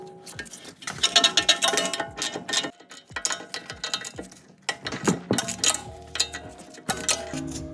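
Ratchet cranking on suspension bolts at the spindle of a BMW E39 M5, a loud close series of rapid clicking bursts with metallic clanks and pauses between pulls, no talking.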